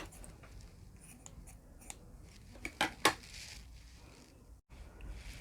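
Scissors snipping crochet yarn for a Pokéball project, a couple of quiet, sharp clicks close by against a faint background of handling noise.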